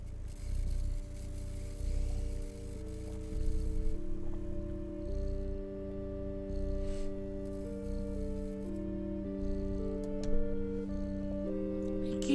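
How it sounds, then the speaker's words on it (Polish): A cat purrs in the video game Stray, a low, steady rhythmic rumble sitting beneath sustained game music tones throughout. "Słychać chyba mruczenie kitku, co nie?"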